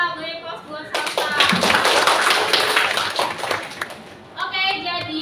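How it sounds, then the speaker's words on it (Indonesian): A class of pharmacy students in a classroom breaks into applause for a student presenter, bursting in loud and dense for about three seconds before fading, with a teacher's voice speaking before and after. "Beri aplaus buat Salsa."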